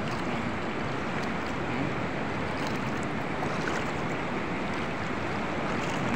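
Floodwater from Typhoon Enteng rushes in a continuous loud roar, a dense unbroken wash of churning water without pauses or talking.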